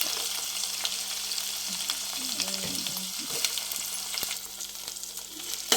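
Onions, green chillies and garlic frying in hot oil with tempering seeds, a close, continuous sizzle with soft scraping as the pan is stirred, quieter and steady throughout.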